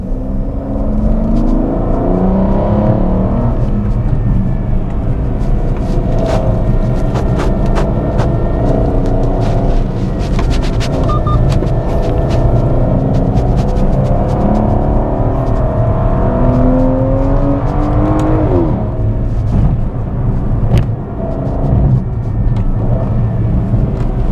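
An Aston Martin Rapide accelerates hard in sports mode in second gear, its engine a loud, close, continuous roar rising in pitch with rumbling exhaust throughout.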